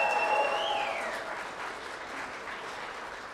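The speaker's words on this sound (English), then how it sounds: "Give him a round of applause for me." A conference audience at an Indigenous men's gathering gives a full round of applause, steady and loud throughout, with a bright whistle sliding down near the start.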